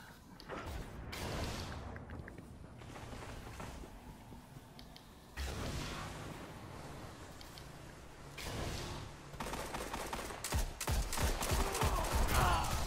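Weapon fire in a Destiny Control match: repeated short gunfire bursts with mechanical clicks and reload clatter, growing denser and louder toward the end, with no one talking.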